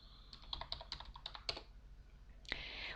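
Quick keystrokes on a computer keyboard, about a dozen close, crisp clicks in an irregular burst, a pause, then one last harder tap.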